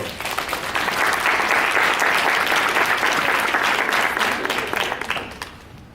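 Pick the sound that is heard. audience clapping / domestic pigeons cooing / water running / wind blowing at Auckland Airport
audience clapping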